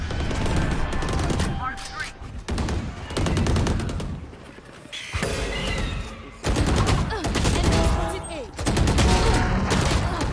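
Valorant gunfire in repeated close bursts, sharp cracks and rapid volleys filling most of the stretch with only brief pauses between, with some faint speech underneath.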